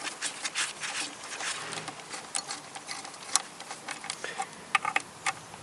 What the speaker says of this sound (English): I need this 12mm socket, and I fasten these bolts.